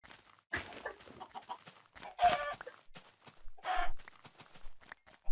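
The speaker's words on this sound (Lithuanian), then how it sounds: "O, kaip višta." Chickens in the video game Minecraft give short clucking bursts in a few separate bouts, fairly close and moderately loud, with quieter game sounds between them.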